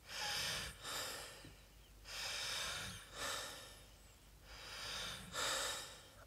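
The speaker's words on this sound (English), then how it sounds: "Listen to my breathing." Heavy, loud breaths close to a microphone, about five long rasping inhales and exhales in an uneven rhythm, with no talking.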